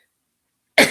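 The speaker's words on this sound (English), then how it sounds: "Did you cough something up?" One short, sharp cough bursts out abruptly after near silence at the very end, close and fairly loud, with no talking.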